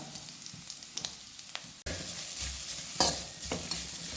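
Half a cup of grated coconut drops into hot oil in a frying pan and bursts into a loud, steady sizzle, with faint stirring clicks before it.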